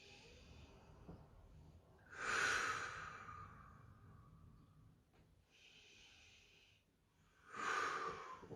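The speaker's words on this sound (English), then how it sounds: "And let's breathe here for a few seconds." Slow, deep breaths during a stretching exercise, two long airy exhales about five seconds apart with quieter pauses between, close and soft in a calm room.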